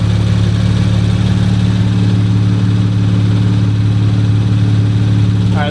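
A heavily damaged 2019 Audi RS5 being rebuilt runs with no muffler, giving a loud, steady, deep droning idle close by with no one speaking.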